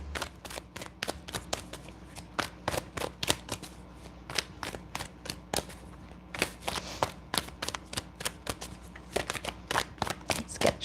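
Tarot cards are shuffled over and over in quick sharp riffles and taps, close and distinct, with short pauses between bursts and no voices.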